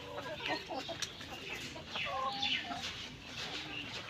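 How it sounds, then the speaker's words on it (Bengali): Layer hens on fresh new bedding cluck and murmur in a quiet, scattered chorus, with short overlapping calls and occasional sharper notes rising above a soft barn background. "মুরগিগুলোর বসিয়ে আবার নতুন করে পাল্টে দেওয়ার কারণে মুরগিগুলো কিভাবে খেলা করতেছে দেখেন।"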